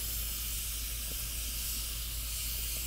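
Steam hisses steadily from an Afghan kazan pressure cooker sitting in a wood-fired fireplace, a constant airy rush heard alone at moderate level.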